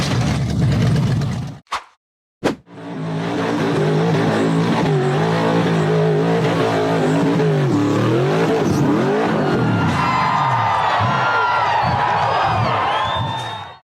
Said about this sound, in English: The black buggy accelerated hard before launching off a steep dirt jump.